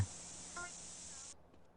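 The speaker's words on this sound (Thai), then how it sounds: "เดี๋ยวเราก็จะรีบไปพ่นสเปรย์กันเลย จะรีบฉีดแล้วก็รีบไปดีกว่า" A steady spray-paint hiss from a graffiti can in GTA San Andreas runs loud for over a second, then cuts off abruptly, leaving faint background game sound.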